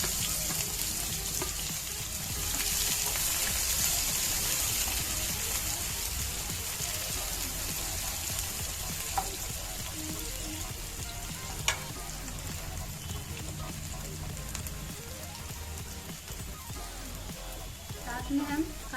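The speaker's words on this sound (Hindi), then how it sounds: "तेल भी हमारा गर्म हो चुका है। इसमें हम जीरा डालेंगे। साथ ही इसमें प्याज भी डाल देंगे।" Cumin seeds and chopped onion sizzle in hot oil in an Indian kitchen pan, a steady broadband frying hiss that runs throughout with a few sharp pops and light stirring clicks, close and continuous.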